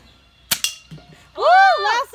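A new BB gun fires two sharp, close pops in quick succession, followed by a brief voiced exclamation.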